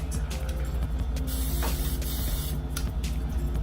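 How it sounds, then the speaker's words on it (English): Close hissing bursts of hairspray: a few short spritzes around one longer spray, over a steady low hum. "take some hairspray, spray it nice and good"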